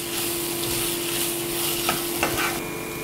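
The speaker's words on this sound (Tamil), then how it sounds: "இது வந்து இந்த எண்ணெயிலே உங்களுக்கு நல்லா வெந்துடும்." Potato pieces frying in hot oil for poha upma, a steady close sizzle with a few brief stirring scrapes near the end, no talking.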